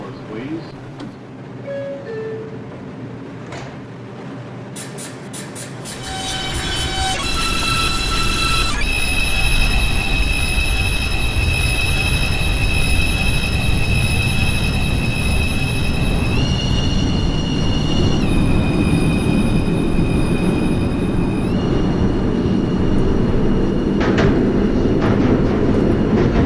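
MTA subway train at Fulton Street station in the Hmmsim 2 simulator, rumbling loudly and building as it runs, with wheel squeal and sustained high tonal whines, bright clicks and an electronic chime near the start.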